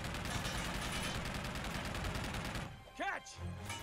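Gunfire in the video game Uncharted, a rapid string of shots heard up close for nearly three seconds, then a short sweeping sound effect as the firing stops.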